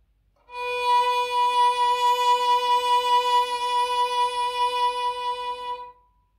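Violin sustaining one bowed note with fast vibrato for about five seconds, a close, bright tone with a quick shimmer, heard alone.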